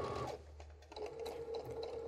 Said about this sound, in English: So let's just start stitching.